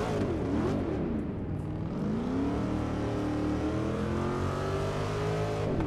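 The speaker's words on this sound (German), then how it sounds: "Nach 8 Töpfen, die verdammt hochdrehen." A V8 race car engine in the Forza Motorsport 6 video game revs high and hard, its pitch sweeping down then climbing and holding, with a synthetic, game-like quality and no voices.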